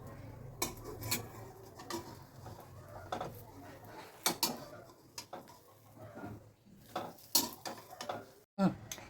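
A fried egg being put into a dish, with sharp clinks and clatters of utensils against cookware in scattered bursts, close by and fairly quiet, over a soft background.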